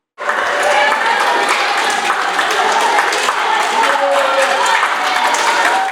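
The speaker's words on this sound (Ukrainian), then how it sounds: "фініш відбувся під оплески усіх присутніх у басейні" Applause and crowd noise at an indoor swimming pool after a 50-metre backstroke finish at an open para-swimming championship, loud continuous clapping and cheering echoing in the hall, with voices mixed in.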